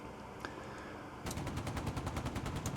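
A helicopter gun in the DCS combat game fires on BMD vehicles. Quiet background gives way to a rapid, steady burst of evenly spaced shots that keeps going to the end, fairly faint overall.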